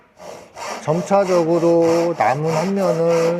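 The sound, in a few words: hand saw cutting wood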